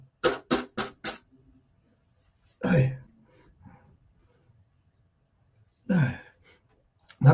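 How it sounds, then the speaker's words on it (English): Several quick nose-blowing bursts in a row, then two separate sharp sneezes a few seconds apart, close to the microphone with quiet pauses between. "blow my nose and sneeze."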